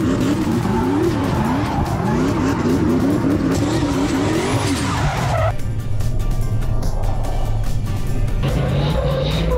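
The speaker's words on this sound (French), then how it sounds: "avec mon ami Steve Vaxi qui faisait une démo de drift et qui nous a tout simplement enfumé" A car drifting at Silverstone sends out continuous loud tire squeal and a revving engine that wavers in pitch, then drops to a rougher, close roar with skidding.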